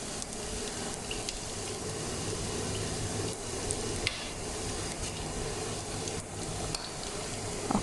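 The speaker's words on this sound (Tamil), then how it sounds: "கடுகு தாளிப்பு இந்த மாதிரி எல்லாம் மிக்ஸ் ஆனது." Mustard seeds and a tempering mix splutter and crackle in hot oil for a spinach curry, a steady dense sizzle with scattered sharp pops, close and moderately quiet, with no talking.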